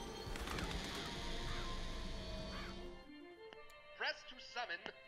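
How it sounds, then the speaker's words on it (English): Crows summoned in Bioshock Infinite Remastered: a dense rush of flapping wings and squawks fills the first three seconds, then drops away, leaving a few sharp caws and clatters against a quieter game backdrop. "Press to summon murderous crows."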